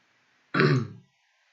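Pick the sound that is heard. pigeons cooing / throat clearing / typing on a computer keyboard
throat clearing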